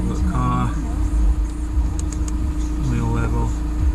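Audi A4 2.0 TDI diesel engine idling steadily while warming up during an oil change, a low continuous rumble beneath someone talking nearby.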